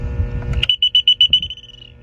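A septic tank alarm panel goes off during a test, with a low rumble cutting out before a run of about nine rapid, shrill, evenly spaced beeps sounding close and loud.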